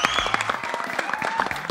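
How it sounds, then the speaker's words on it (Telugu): Audience applause for host Suma at a film pre-release event, a crowd clapping in dense overlapping claps close by, with a few cheers and a faint musical tone running underneath. "she deserves this claps really"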